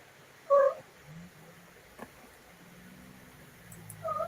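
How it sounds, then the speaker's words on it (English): A house cat makes a couple of short, faint vocal calls, one near the start and another at the end, in an otherwise quiet room with low background hiss. "What is that noise? Probably my cat."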